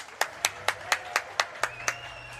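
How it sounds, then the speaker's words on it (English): Nine slow, evenly spaced handclaps ring out clearly in a steady rhythm, with a faint hum underneath, applauding a player at the Bellum Gens Elite tournament in Stara Zagora, 2024. "a round of applause for the current world champion from France"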